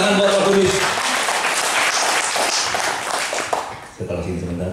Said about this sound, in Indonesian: Berikan tepuk tangan buat Roh Kudus.